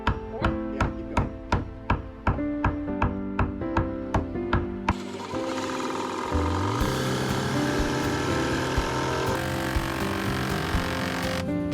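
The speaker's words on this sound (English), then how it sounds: "Can you hit the end of that with the hammer?" A hammer pounds on a board during deck building, about a dozen sharp, evenly spaced blows ringing out close and loud, then giving way to a steady, loud power-tool whine.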